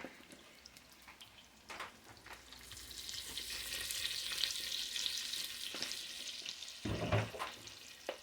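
Curry powder sizzles and fries in a hot pan for rice curry, a steady crackling hiss that builds after a couple of seconds and holds loud, with a few clinks and stirring knocks.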